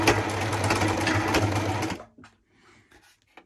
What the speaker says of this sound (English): your sewing machine sews for a number of stitches and then it'll either clog up or it will just simply stop sewing.